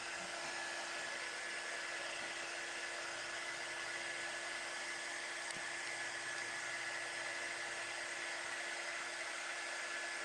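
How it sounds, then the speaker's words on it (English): A strong heat gun runs with a constant, faint whooshing blower hiss and a thin steady whine, unchanging for the whole stretch with no voices. "We may have to pull out my really strong heat gun."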